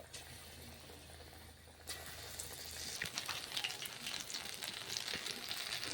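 Eggplant pakora fry in hot oil, a faint low bubbling that swells into a steady crackling sizzle as a fresh batch goes in.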